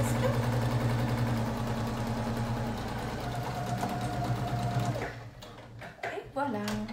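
A sewing machine runs steadily with a fast droning whir while stitching the hem of a wrap skirt, then stops, leaving light clicks and handling sounds; someone speaks over it.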